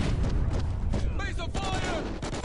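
Close, loud bursts of gunfire in Call of Duty: Ghosts during a firefight, rapid shots layered with explosions and shouted voices over the din.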